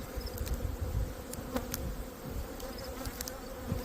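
Honey bees hum steadily around an open beehive during an inspection, a dense close swarm buzz with a few sharp ticks and clicks from handling the hive, no one speaking.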